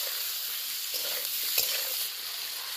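Spices with turmeric, salt and chilli powder sizzle steadily in a hot pan for a tilapia fish curry, a close, even frying hiss with a few soft stirring scrapes and no voices.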